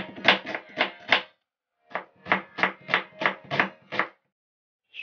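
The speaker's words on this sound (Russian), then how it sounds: "Берем небольшую луковицу и нарезаем на маленькие кубики." A knife chops a small onion into small cubes on a board, giving quick, crisp strokes in two rhythmic runs of about a dozen hits with a short pause between them, close and alone.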